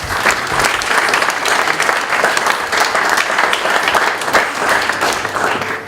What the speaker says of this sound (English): So, does that deserve a round of applause?